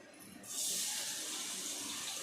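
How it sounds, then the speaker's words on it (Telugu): Paneer pieces drop into hot oil and start frying, a sudden loud sizzle that starts partway through and holds as a steady hiss. "ఇప్పుడు ఈ ఆయిల్లోకి పన్నీర్ ముక్కలు వేసుకుంటాను"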